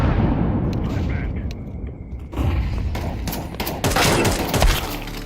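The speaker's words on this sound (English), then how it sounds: "Let's throw the flashbang." A flashbang grenade thrown in Valorant, heard among a burst of loud gunfire, thumps and booms in a busy firefight, with players talking over the action.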